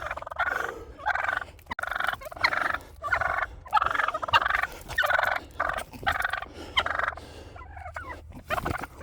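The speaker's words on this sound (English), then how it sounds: "I never thought I had to fight a turkey." A turkey gobbles again and again in loud, close, rapid bursts separated by short pauses, with no talking over it.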